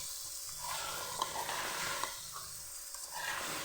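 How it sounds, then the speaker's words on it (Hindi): Carrots fry in oil with a soft, continuous hiss that swells and eases a little over a few seconds, faint and close, with no talking. "अब मैं इस पर इसमें गाजरें शामिल करूँगी और गाजरों को अच्छे तरीके से भूनकर और इनको थोड़ा गला लूँगी"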